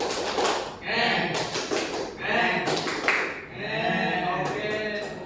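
A school class plays the 'tepuk gergaji' saw clapping game, with a burst of quick hand claps and taps mixed with a voice chanting and imitating a saw's whine, close and fairly loud.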